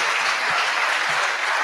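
Audience applause at a mentorship programme event, a dense, even wash of clapping hands from a sizable crowd that stays steady and fairly loud for the whole moment.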